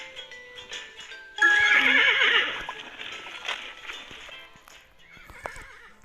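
A loud horse neigh in a video game bursts out and whinnies for about a second, followed by quieter clip-clop hoofbeats and soft game-like ambience.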